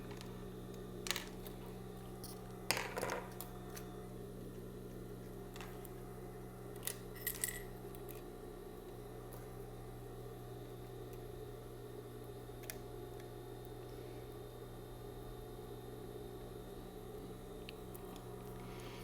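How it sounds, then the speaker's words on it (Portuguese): Swapping a sewing machine's presser foot for an invisible zipper foot, with a few faint metallic clicks and taps scattered over a quiet hum. "Troquei aqui pela cadeirinha a sapatinha do zíper invisível"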